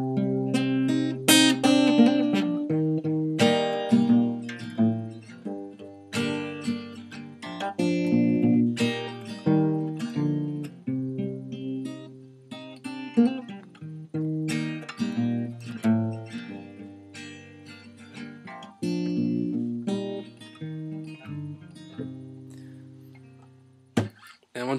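Guitar playing through a song in a lesson setting, a busy run of chords and single-note riffs with strong rhythmic attacks, steady and close for most of the passage with brief pauses.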